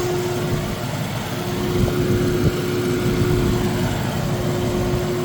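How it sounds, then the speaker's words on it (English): Steady, even whoosh of the air conditioning fan running in an Infiniti FX50S with a low engine hum and a faint constant tone, unchanging throughout. "The AC is on right now, so you're kind of hearing the fan as well running."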